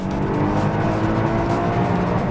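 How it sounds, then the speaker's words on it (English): A Lotus Evora S engine held at the rev limiter in manual mode gives a steady, loud, close drone with a fast stutter in it. It is heard alone, with no voices. "as you hear, the car will not shift gear because we've calibrated the system so it doesn't shift gear at the rev limiter"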